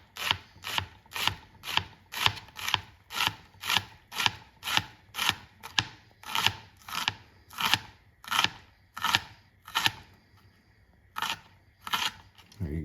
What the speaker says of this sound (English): we're gonna cut just small dices here